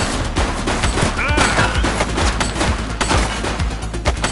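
Rapid gunfire in The Precinct police video game, dense overlapping bursts of shots and sharp cracks filling the clip alongside game effects, with no talking.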